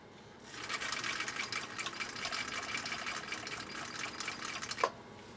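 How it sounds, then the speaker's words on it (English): A 1959 Husqvarna Viking CI-21A sewing machine stitching a tricky bubblegum-style fabric, giving a steady, close mechanical whir and rapid needle chatter that runs for several seconds before stopping. "we'll see how Nate's machine does on this super tricky bubblegum style material"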